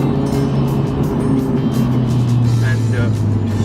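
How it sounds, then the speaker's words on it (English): A Honda Civic Type R's engine hums steadily from inside the cabin while driving in its most aggressive mode, a low droning tone with slight pitch shifts, mixed with road noise while a person talks over it. "You can hear the engine right now."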